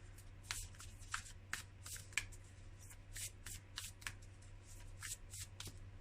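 Tarot cards are shuffled by hand in quick, rhythmic papery riffles and flicks, close and soft over a low steady hum, with no talking.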